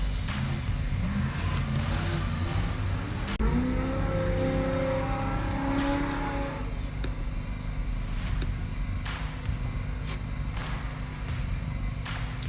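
An Ultra 4 off-road race vehicle at the YORR Wild West 100 in Columbus, Montana roars through, its loud engine holding steady with a rising whine partway through, and no one speaking.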